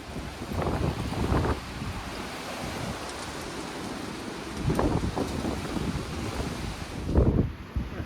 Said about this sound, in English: Got some crazy wild wind in Washington State today.